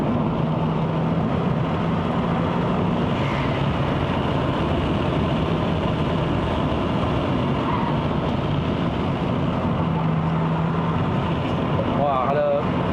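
A Hyundai Elantra Sport 1.6 Turbo driving on a mountain road in Malaysia, a steady low engine and road drone filling the cabin throughout, with people talking over it.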